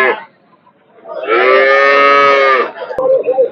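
A two-calving Bangla cross dairy cow at the Horjotpur cattle market gives one long, loud, close moo lasting over a second, framed by short quieter sounds.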